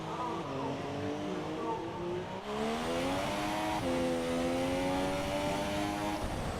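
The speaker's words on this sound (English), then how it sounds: "I'm sure that'll be probably the last time we hear the wheel spin out of that Mercedes car." A Mercedes Formula 1 car in an F1 video game on PS4 spins its wheels under acceleration, with a steady high engine whine that rises in pitch through upshifts, loud and continuous.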